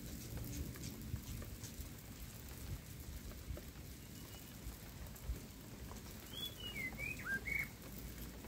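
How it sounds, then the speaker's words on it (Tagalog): Steady rain patters over a vegetable garden, and near the end a small bird lets out a short run of high chirps, faint and partly buried beneath the downpour. "Diba may nakanta na ibon."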